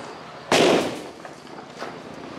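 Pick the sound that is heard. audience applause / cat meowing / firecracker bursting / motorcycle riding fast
firecracker bursting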